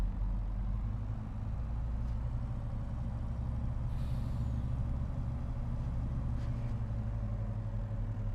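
A truck in Farming Simulator 25 on a Scottish highlands map, its engine droning steadily and low with a brief hiss of air near the middle, no voices.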